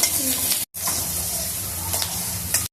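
Green chillies frying in a pan while being stirred, a loud constant sizzle with scraping strokes, broken by a short silent gap.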